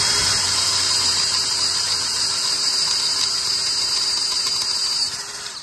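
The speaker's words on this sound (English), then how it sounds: "So this is a 1/4 inch bit, 1/4. So we're gonna drill 1/4 then." A quarter-inch bit drills steadily through metal while a bolt-on swing arm extension is fitted to an electric motorcycle, giving a continuous high whine close by that eases off near the end.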